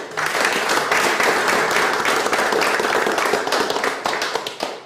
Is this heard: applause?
yes